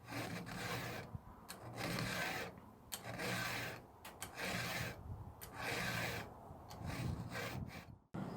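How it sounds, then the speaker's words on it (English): A hand file rasping across the teeth of a wood processor's chainsaw chain, in steady, close strokes of gritty scraping with short pauses between passes. "You want to try and get your file to follow that angle all throughout."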